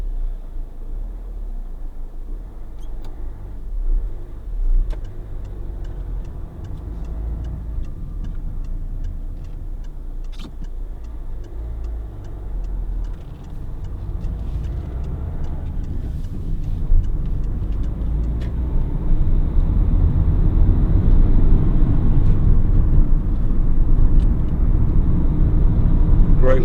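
A Peugeot 207 1.4 HDi 70 diesel panel van with a bare rear load area rolls along a rough road, giving a steady low cabin rumble and road drone that grows louder and heavier in the second half.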